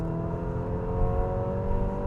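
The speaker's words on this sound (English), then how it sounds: "that variable compression turbo engine is one of the least refined units I've driven in a while" A 2026 Infiniti QX60 with a variable compression turbo four-cylinder engine pulls at full throttle in sport mode, a steady, strained engine drone heard from inside the car, loud and unbroken.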